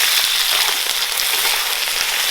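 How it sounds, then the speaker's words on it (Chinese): Fatty duck pieces fry in hot oil in a wok, giving a loud, dense, continuous sizzle and crackle close by, with no voices. "锅头先来上一点油，我准备把那个鸭子还是先给它煎一下，再来烧"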